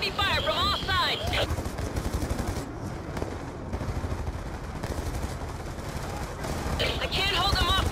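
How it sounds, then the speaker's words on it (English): Dense, continuous heavy gunfire in a Call of Duty Black Ops 2 battle, with many weapons firing at once around a French vehicle under attack. The shots form a loud, unbroken barrage, with bursts of radio-style chatter at the start and end. "the French vehicle is taking heavy fire from all sides."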